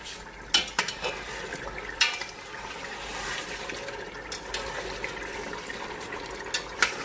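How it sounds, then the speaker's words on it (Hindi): Medium-sized potatoes are stirred in a pot of aloo gosht in the leftover water, with sharp metal spoon clanks against the pot over a soft, continuous bubbling and sizzling. "ये जो पानी इसमें रहता है, इसी पानी में ये आलू भूनेंगे।"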